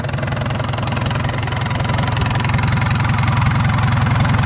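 A Yanmar 4T100 generator diesel engine idling at close range, a loud, steady, knocking chug with a fast even pulse and constant vibration throughout.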